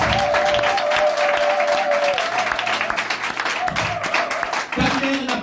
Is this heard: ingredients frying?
no